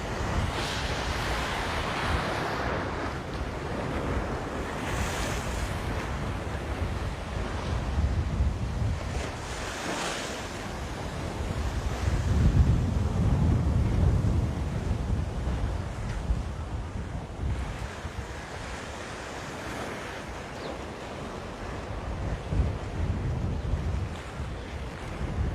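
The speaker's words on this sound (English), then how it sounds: "Lucille's not a fan of those waves," Ocean waves break and wash onto a Hawaii shore, a continuous loud roar of surf with heavy wind buffeting the microphone and occasional stronger surges.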